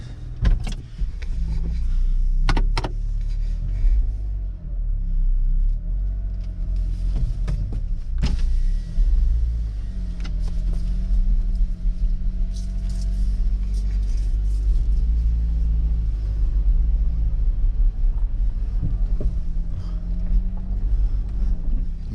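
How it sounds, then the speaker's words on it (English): Steady low engine rumble heard from inside a car preparing to head out on a mountain road for deer hunting, with a few sharp knocks and clicks early on and a constant hum throughout. "So we're in the car, getting ready to head out."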